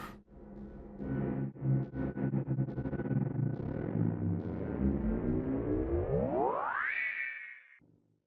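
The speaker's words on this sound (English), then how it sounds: "Got this bass buildup." A modular synth bass buildup runs through reverb and a frequency shifter: a dense, distorted drone with rhythmic pulsing that swells, then sweeps steeply upward into a bright, ringing peak before fading out, all instrumental with no voices.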